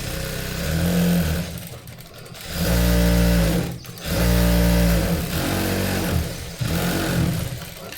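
A sewing machine stitches a blouse in several loud, close bursts of rapid whirring, each run starting and stopping with brief pauses between.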